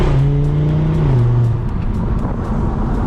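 A tuned 2019 Audi RS3 with Milltek exhaust roars loudly from inside the cabin, its pitch holding, then dropping as it shifts, before droning on under acceleration.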